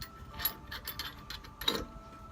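Ratchet clicking in short bursts while loosening the collar nut on the front strut of a BMW E34 540i, several close mechanical clicks and a louder ratcheting pass near the end.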